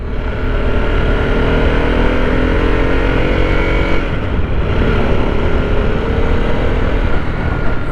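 A 2021 Harley-Davidson Sportster S motorcycle engine drones loudly and continuously while being ridden in second gear at cruising speed, with a dense, steady roar and a brief dip in pitch midway, heard close up.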